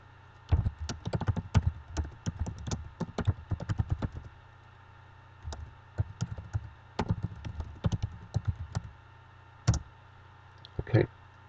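Computer keyboard typing in bursts of rapid clicking keystrokes, with pauses between groups and a few single harder key presses like Enter near the end, close and quiet, alone.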